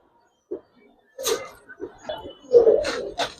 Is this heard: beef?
no